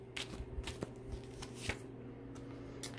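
Tarot cards being shuffled in a quiet room, a soft papery riffle with a few sharper flicks and taps spread over a few seconds, faint and close, with no talking.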